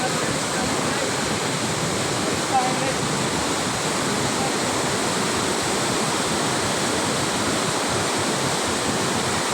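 A loud, steady roar of rushing water from a nearby waterfall fills the scene, constant and broadband with no pauses.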